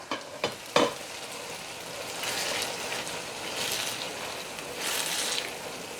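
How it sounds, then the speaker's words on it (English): Coconut milk poured into a pan of curry saltfish, setting off a steady, moderately loud sizzle and bubbling after a few brief knocks at the start, with no talking. "I am going to go ahead and add my coconut milk"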